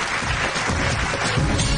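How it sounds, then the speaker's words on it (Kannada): An audience on a TV show stage applauds, a dense, loud wash of clapping that fills the whole moment without a break. "ಜೋರಾದ ಚಪ್ಪಾಳೆ ಬರಲಿ"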